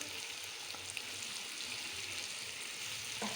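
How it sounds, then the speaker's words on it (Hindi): Spinach for palak gosht goes into a hot pan, giving a steady, fairly faint frying hiss with a few small crackles near the end. "ये मैं पालक डालने लगी हूँ।"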